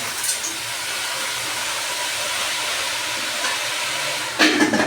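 Vegetables dropped into a hot pan give off a broad, steady sizzling hiss. The hiss holds for several seconds and ends with a louder clattering burst near the end.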